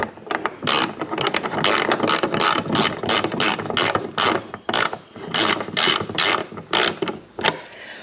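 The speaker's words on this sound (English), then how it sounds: "You're going to take your bracket and reinstall your nut." A hand ratchet tightens a nut on a hood strut bracket of a 2017 Chrysler Pacifica, with rapid bursts of sharp clicking repeated in an uneven rhythm, close and loud.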